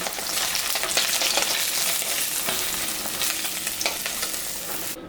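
Dry red chillies and cumin seeds sputter in hot mustard oil left from frying fish, a loud close crackling sizzle with sharp pops scattered across it, continuous for several seconds.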